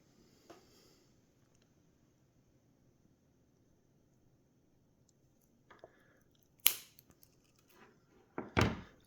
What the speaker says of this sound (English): So I'm gonna go ahead and make a cut with the True Cables.